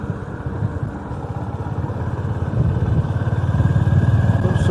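A vehicle engine descends a mountain road in North Sikkim under engine braking. The mid-pitched drone is steady and close, and grows gradually louder with a rough, pulsing texture.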